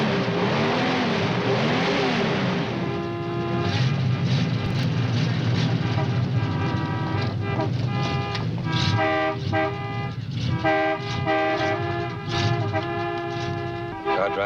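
A car motor starts and is revved loudly, giving a dense, continuous roar with shifting tonal whines and horn-like tones that rise and fall for the whole stretch.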